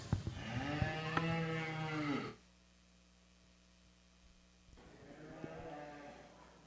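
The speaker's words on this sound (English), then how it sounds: "Now entering the ring is our next heat of purebred yearling heifers." Purebred yearling Charolais heifers at a youth national cattle show, two long, loud moos close by with a quiet gap between them.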